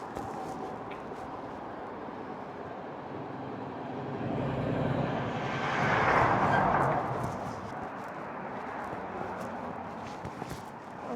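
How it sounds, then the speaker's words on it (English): A heavy lorry rumbles past in Bakewell, swelling to a loud peak midway and then fading away over steady outdoor background noise. "A lorry."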